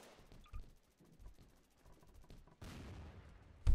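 Gunfire in a first-person shooter raid, a few scattered shots and bursts of varying loudness with a loud blast at the very end, over low game ambience.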